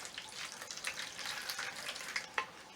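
Surplus water is tipped out of a small vessel holding repotted carnivorous plants, making a short, quiet splashing trickle with scattered drips and no talking.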